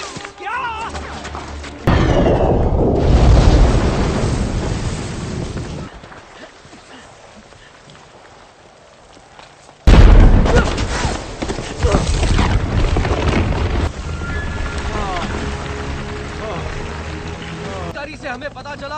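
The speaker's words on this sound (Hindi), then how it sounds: "हम पर गोलियां चल रही हैं।" Loud action-movie combat effects in a Hindi-dubbed Hollywood film: heavy booms, crashes and thuds come in two sharp bursts separated by a quieter stretch, with voices and music mixed underneath.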